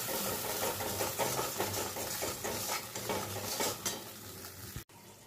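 A masala being sautéed in a pan with salt and turmeric for a Bengali boal fish curry: a soft, continuous sizzle with repeated scraping stirs of a spatula, ending in a brief clatter.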